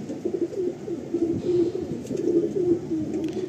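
Pigeons in a loft keep up soft, close, continuous cooing in low repeated rolls.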